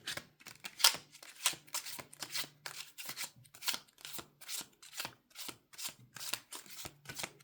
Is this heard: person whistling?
no